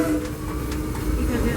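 The Disneyland Railroad steam train rolls along the track at the park, a steady close rumble with faint clicking of the cars, and people talking indistinctly under it.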